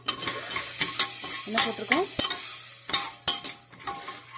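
Urad dal and asafoetida frying in sesame oil, with a steady close sizzle broken by repeated stirring scrapes and clicks of a spoon against the pan.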